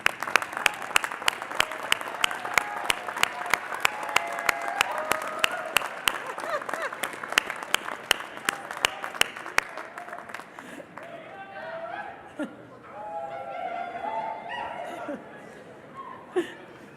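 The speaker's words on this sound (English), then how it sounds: "let's give them a round of applause" An audience at a winter university commencement breaks into dense, loud applause for about ten seconds, then it fades into murmuring, light laughter and crowd chatter.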